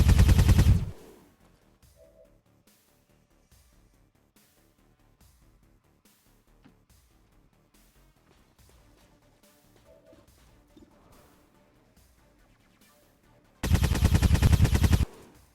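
Gunfire from a loud weapon in the strategy game XCOM Long War of the Chosen: two heavy, blasting bursts, one at the start and one near the end, with quiet game ambience between them.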